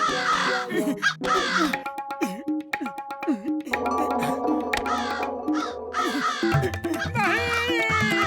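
Several cartoon crows caw harshly in quick succession as they swoop in to attack in a Motu Patlu comedy, with overlapping calls and some music underneath.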